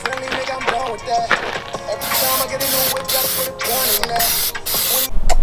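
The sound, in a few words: spray coating wheels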